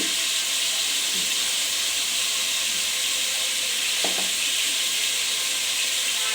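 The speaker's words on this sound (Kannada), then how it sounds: "ಸ್ವಲ್ಪ ಶುಂಠಿ ಬೆಳ್ಳುಳ್ಳಿ ಪೇಸ್ಟ್ ಹಾಕೊಳ್ಳಿ. ಸ್ವಲ್ಪ ಅರಿಶಿನ ಪುಡಿ" Ginger garlic paste and turmeric sizzle loudly in a hot oiled pan for chicken kurma, a steady, dense frying hiss with a couple of faint stirring clinks near the middle.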